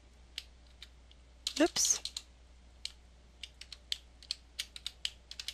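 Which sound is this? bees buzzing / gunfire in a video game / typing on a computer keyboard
typing on a computer keyboard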